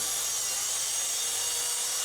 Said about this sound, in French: vous pouvez aussi utiliser une scie à onglet